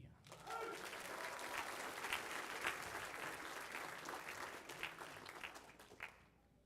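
Many hands clap in a sustained, even round of applause at a spring school band concert and awards ceremony, a steady crowd wash lasting about six seconds before tapering off, with a brief voice at the very start.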